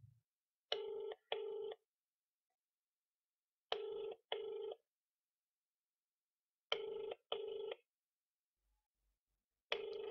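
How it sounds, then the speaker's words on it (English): A telephone ringback tone through a speaker: repeating double rings, two short bursts then a pause, heard four times in an otherwise quiet room. "It's actually ringing."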